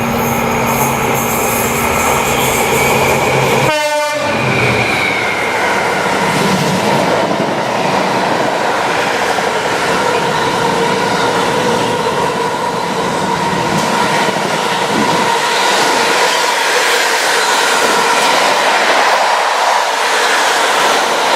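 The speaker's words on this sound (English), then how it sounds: "I believe we're getting on this train now, which is a 360." A London Class 360 electric train pulls in and runs on, with a brief rhythmic clatter early on and then a sustained loud rumble and whine of the moving carriages, with no talking.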